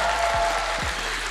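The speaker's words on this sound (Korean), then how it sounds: "제가 인터뷰를 한 이래로 가장 우레와 같은 함성이 터져나오고 있습니다" Fans at a 2023 LCK Spring Split esports match between Nongshim and Kwangdong cheer and clap during a post-game player interview, a dense continuous crowd roar filling the hall.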